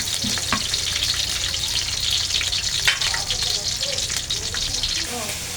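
Pechay sizzles steadily as it sautés in a hot pan, with bright continuous frying hiss and scattered clinks and scrapes of a utensil stirring the greens.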